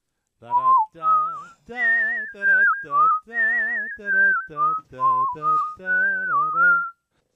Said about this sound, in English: if you kill your main mic, I think we'll just hear whistling